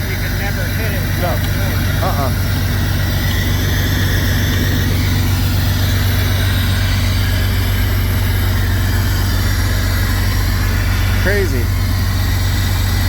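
A Jeep engine with a misfiring rear injector, treated with injector cleaner, runs at a steady, loud low rumble throughout while people talk over it.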